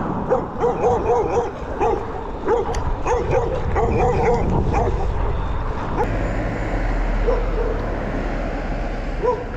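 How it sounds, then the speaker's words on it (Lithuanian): Several dogs barking and yipping in Macedonia, outdoors, with repeated barks through the first half, then a steady low vehicle rumble taking over with scattered faint barks in the background. "Kiek daug šunų. Makedonijoje labai daug šunų."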